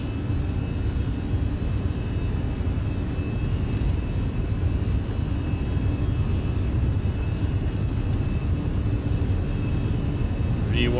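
An Airbus A320 takes off in a flight simulator game, a steady broadband engine roar with a constant high whine running unchanged throughout, loud and continuous with no break.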